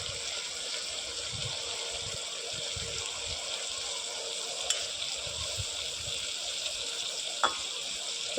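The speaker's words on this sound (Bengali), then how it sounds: "তো দেখো বাকি মাছগুলোকে দিয়ে ভেজে নেবো এবার" Small puti fish fry steadily in hot oil, a continuous even sizzle with faint occasional clicks, close by and with no talk.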